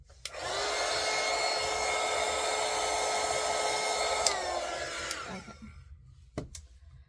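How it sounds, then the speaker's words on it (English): Heat gun blowing hot air over an encaustic wax painting of a skull, a loud steady whirring hiss for several seconds that winds down, followed by a few sharp clicks. "hit it with the heat gun real quick"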